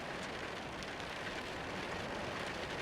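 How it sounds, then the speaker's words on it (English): Steady rain falls across a surface outside on a cold, windy autumn night, a dense even hiss of countless drops with no voices. "It may be cold, raining and windy outside,"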